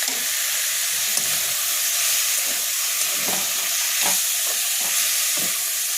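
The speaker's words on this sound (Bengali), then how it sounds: "এরপর ভালো করে এই মশলার সাথে চিকেনটাকে কষাতে হবে।" Chicken is stir-fried with spice masala in a pan, giving a steady, close sizzle and hiss with occasional soft scrapes and stirring knocks throughout.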